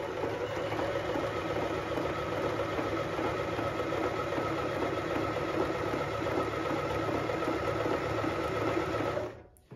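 A Pfaff Hobby 1030 sewing machine stitches a stretch pattern in one steady, fast, close whirring run that stops abruptly near the end.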